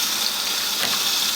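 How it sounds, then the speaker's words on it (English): Water from a kitchen sink tap pours into a small dry sack, a steady hissing gush that holds at an even level throughout, close by with no talking. "right now I am at the kitchen sink, and I am going to fill this small one full of water"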